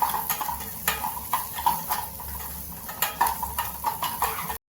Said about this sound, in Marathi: हलवून घेऊया.